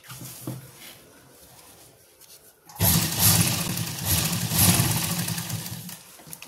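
A sewing machine stitches a collar at home, starting after a quiet moment and then running steadily as a close, loud, even mechanical whirr to the end.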